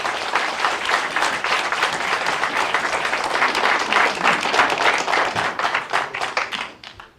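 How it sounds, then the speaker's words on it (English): Audience applause at a 2018 political forum panel, dense steady clapping from a seated crowd that holds for several seconds and then tapers off at the end. "you may applaud our members currently."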